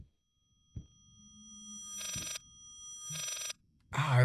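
A telephone rings in the horror video game Layers of Fear, two separate electronic rings with a pause between them, fairly loud against a quiet, low ambient hum before a sudden burst of noise at the end.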